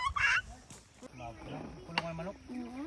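Chickens on a farm cluck and squawk in short bursts close by, mixed with people talking in the background.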